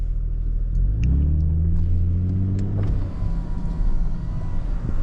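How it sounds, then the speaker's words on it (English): A 2025 Audi S7 driving with the sunroof open: a loud low engine rumble that rises in pitch as the car accelerates, then settles into road and wind noise, with no speech. "So right now I'm just driving with the sunroof open."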